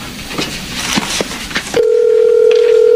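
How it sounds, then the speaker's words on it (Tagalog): A telephone rings on a call after a burst of muffled noise, the steady tone sounding loud and continuous for the last second and more. "Ayan, nagre-ring na."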